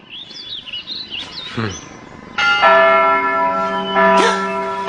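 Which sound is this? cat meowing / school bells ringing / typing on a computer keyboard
school bells ringing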